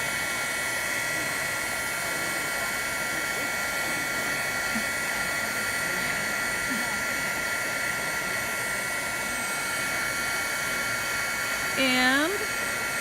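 A heat tool blows steadily to warm Thibra thermoplastic material, a constant whirring hum with a brief voice near the end.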